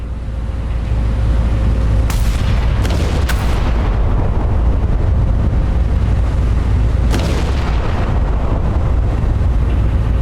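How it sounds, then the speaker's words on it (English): Warship guns and shell explosions in the naval strategy game Battleship Command: a steady loud rumbling roar with several sharp booming shots, a cluster around the middle and another later, no voices. "There's 5 ships firing on him."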